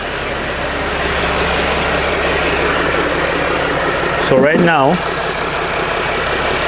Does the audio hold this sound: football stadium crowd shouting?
no